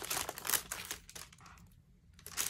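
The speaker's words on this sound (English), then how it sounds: "And then, you know, you just pull the wax paper out." Wax transfer paper peeled away from a vinyl decal on a tumbler, giving close crinkling and tearing rustles in irregular bursts that fade briefly before a final crackle.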